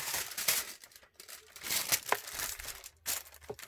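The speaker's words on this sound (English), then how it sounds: "let me get the wax paper" Wax paper crinkles and rustles in bursts as it is handled and laid down during mixed-media art journaling, a close, dry papery sound with brief pauses between handlings.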